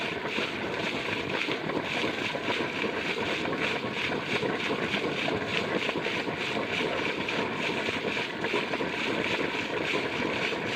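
A Selkon air pump runs without pause at an installation in Vellakovil, giving a steady, loud mechanical drone with a constant hiss and no break across the whole stretch.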